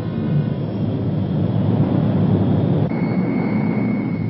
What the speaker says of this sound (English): The C-130 Hercules, newest and most versatile addition to the Navy's air fleet, provides an efficient lifeline between the isolated stations and the coastal support base.